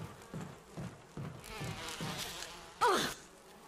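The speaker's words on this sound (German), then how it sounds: "Bienen!" Bees buzz in the Resident Evil video game, with repeated short droning swells and one louder close buzzing pass near the end, heard on their own without talk.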